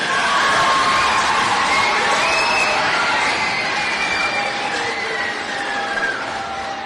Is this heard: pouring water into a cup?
no